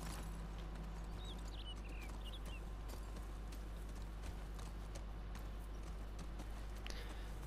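Horse hooves clip-clop in The Last of Us Part 2, faint steady hoofbeats under a constant low hum and ambient noise, with no talking.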